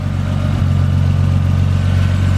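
A car engine rigged with a soda can to mimic turbo noises drones steadily and loudly up close, a constant low humming idle with no talk over it.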